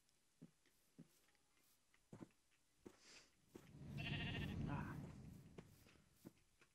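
Sheep bleating in a Minecraft-style farming video game, a drawn-out bleat swelling in the middle of the clip amid scattered soft clicks and footstep-like taps, fairly quiet overall.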